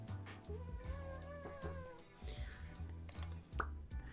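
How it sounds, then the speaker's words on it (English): A cat meows in an indie dating sim video game with rising and falling cries over soft game music and background sounds. "And here's a cat."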